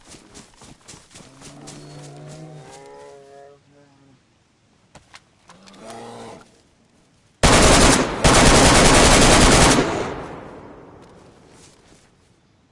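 Loud sustained burst of rifle gunfire in the survival video game DayZ, a few seconds of rapid shots decaying into echo, following a stretch of speech.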